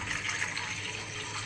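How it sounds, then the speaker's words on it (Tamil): Water poured steadily from a glass into a pan at home while preparing a flaxseed and kadukkai hair remedy, a continuous close splashing trickle with no voices. "அதில் வந்து நான் கொஞ்சமாக தண்ணி ஊற்ற போகிறேன்."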